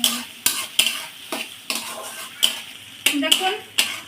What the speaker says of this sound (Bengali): দিয়ে মশলাটা সুন্দর করে কষিয়ে নেব তরকারির সঙ্গে।